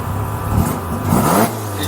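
A 1979 Mazda RX-7 Series 1 with a modified 13B rotary engine, large-extent port, revving up and down nearby, a loud buzzing engine note that rises and falls twice within a couple of seconds.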